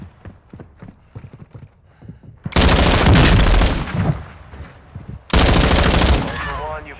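Bursts of automatic gunfire in the Call of Duty DMZ video game, two long loud rattling volleys after a few scattered quieter shots and clicks, close and harsh.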